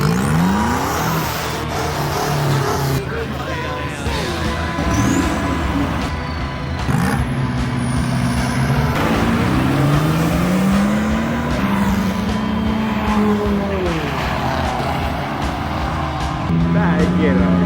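A rally car races on ice, its engine loud and close with repeated rising and falling revs as it accelerates and shifts, while occupants talk over the noise.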